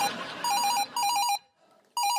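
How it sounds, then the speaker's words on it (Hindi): A telephone rings with an incoming call, three bursts of a warbling electronic ring separated by short gaps, loud and close with no talk over it. "मेरी बीवी का फोन है"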